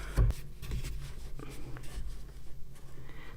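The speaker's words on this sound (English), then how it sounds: "Now I'm going to very gently cut along my board." A craft knife drawn lightly along a board beside a ruler while making a doll flower shop, a soft continuous scraping with a sharper tap at the start, close and fairly steady.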